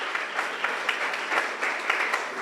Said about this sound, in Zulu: Simshayele kakhulu ihlombe sisambingelela ekseni